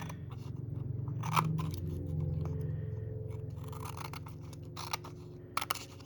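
Close scissors crunch and scrape through paper while working around a jewelry box lid, with repeated cuts over a steady background hum and a few sharper snips near the end.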